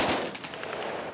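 Special forces assault training on a building, with a rapid burst of close, loud gunfire whose sharp shots ring out and echo.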